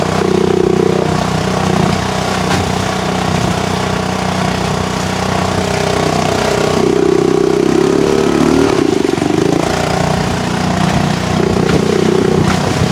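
A Honda outboard motor drives an Expandacraft modular boat at about 5 knots, droning steadily and loudly throughout, with a slight cavitation warble coming and going in the engine note.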